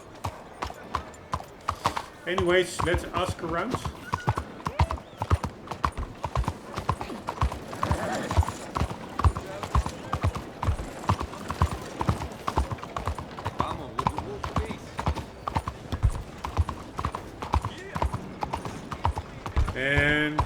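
Horse hooves clip-clop steadily on a town street in the video game Red Dead Redemption 2, a close, even rhythmic trot throughout, with a brief whinny and someone speaking once near the start.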